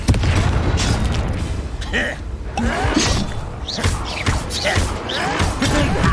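Confringo fire spells exploding in a Hogwarts Legacy battle, loud repeated booms and bursts over dense combat noise with voices shouting in the fight.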